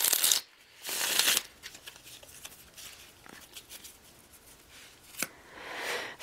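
Riffling tarot card shuffles, with a couple of bright bursts of rapid flicking and softer patting and sliding in between, close and fairly quiet, no talk.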